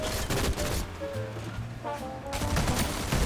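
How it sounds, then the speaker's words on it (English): Gunfire in a battle royale video game, rapid bursts of loud shots rattling off near and far, easing into a short lull before another volley erupts. "The lady knows someone is shooting at her."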